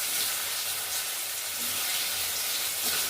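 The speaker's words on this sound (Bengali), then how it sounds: "পনিরটা ভেজে নেব।" Paneer cubes sizzle in about two spoonfuls of hot oil in a pan, a steady, dense crackling hiss that holds close and even throughout with no voices.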